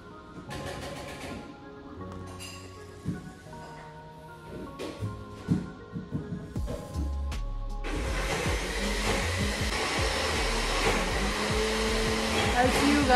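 A kitchen grinder machine starts up partway through after some quieter indoor clatter, then runs as a loud, continuous whirring roar that holds steady to the end.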